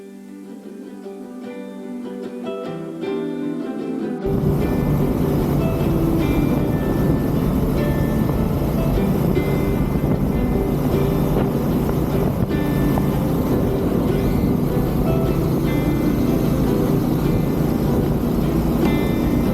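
A Bear 650 motorcycle rides along country roads near Lobethal and Birdwood in South Australia, its engine rising at first and then holding a loud, steady drone mixed with rushing wind, with no talking.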